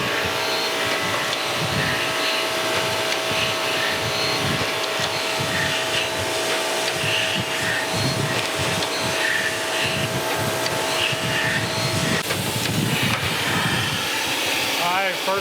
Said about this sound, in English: let me go get that set up on the surface grinder. Another grinding job.